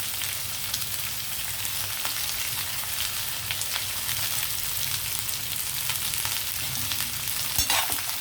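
Ivy gourd frying with tender curry leaves in a pan gives a dense, continuous sizzle with occasional light crackles, heard up close with no voices.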